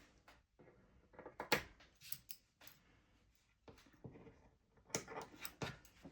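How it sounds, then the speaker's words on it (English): Scissors snip loose threads after coverstitch sewing on panties, giving several quiet, sharp close-up clicks in irregular bursts with handling noise between them. "We can also trim the threads."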